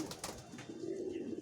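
Young pigeons in a loft give a soft, low, continuous coo, close and quiet, with a few brief rustles alongside.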